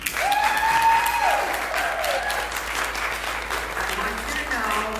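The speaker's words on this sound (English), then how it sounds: "Ladies, let's give them applause." Women in a live-streamed church gathering clap for the gentlemen standing up, a moderate patter of applause running under a voice that speaks over it at the start and keeps talking as the clapping carries on.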